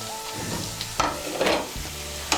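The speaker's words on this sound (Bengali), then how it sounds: "আলুটাকে তেলের সঙ্গে মিশিয়ে নেব। মিশিয়ে নিয়ে একটু ভেজে নেব।" Thin-cut potato with onion frying in oil as it is mixed in the pan, giving a close, steady sizzle broken by a few scraping stirs, with no voices.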